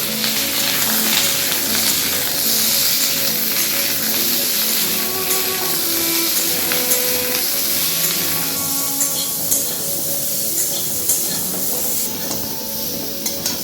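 Cut green mango fries in a mustard oil tempering with dried red chillies and black mustard seeds, giving a continuous close sizzle that eases slightly toward the end, with no talk over it.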